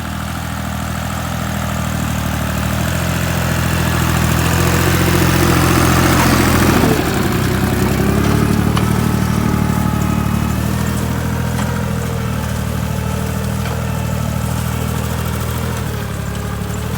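A steady, loud diesel engine of a Dongfeng 254 four-wheel-drive tractor drones under load pulling a single-furrow plough through black soil, with a brief surge partway through and constant mechanical rumble.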